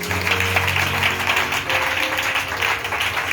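A church congregation applauds and cheers in acclaim of the Lord, a steady, dense wash of clapping lasting throughout, loud and continuous, with a low sustained tone and faint voices mixed beneath.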